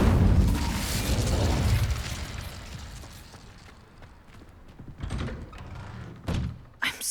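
The Incendio fire spell goes off in Hogwarts Legacy on PS5 as a heavy booming burst that rumbles and slowly fades. A few sharper thuds and pops follow near the end.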